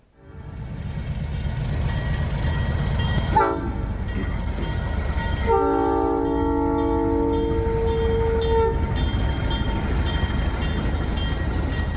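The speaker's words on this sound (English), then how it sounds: "Here's the first train of the day just leaving." A Durango & Silverton Railroad train rumbles steadily with a loud, sustained horn blast partway through, continuous mechanical noise throughout as it pulls away from the station nearby.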